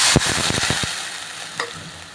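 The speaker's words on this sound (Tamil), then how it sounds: "அதுதான் இப்போ பொறிக்க போகிறேன்" Ready-made pani puri frying in hot oil, a continuous bright sizzle with a few sharp stirring clinks and scrapes early on and one more later, loud and close.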